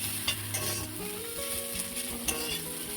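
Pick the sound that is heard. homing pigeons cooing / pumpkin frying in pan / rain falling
pumpkin frying in pan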